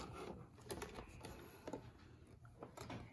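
A sewing machine backstitches at the end of a French seam, a quiet, close mechanical patter of short stitching bursts over steady motor hum.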